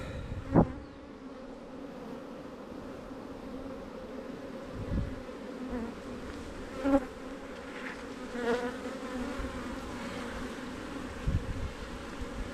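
Honey bees buzz steadily around an open hive during a late-November inspection, a continuous close drone with occasional louder passes of single bees and a few faint clicks of handled frames.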